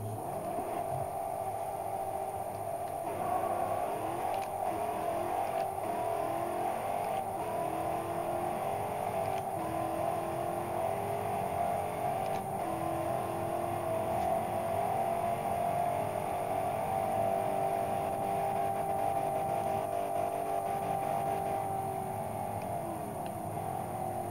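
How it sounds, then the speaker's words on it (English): In the Forza Horizon 2 racing game, a 1992 Ford Escort built to about 1000 hp drones steadily with its engine pitch sweeping up and down, faint and without voices. "I'm going to be quiet so you can hear this car, by the way."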